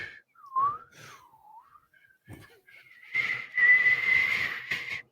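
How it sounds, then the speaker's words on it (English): A person whistles alone, a wavering, sliding tune at first, then a louder sustained whistle with a few bright steady notes toward the end, close to the listener. "Can you whistle?"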